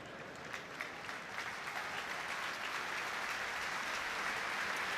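Fans clap warmly for Cameron Brannigan in the stadium at a Championship football match between Oxford United and Norwich City, a broad crowd-wide applause that swells and holds steady throughout.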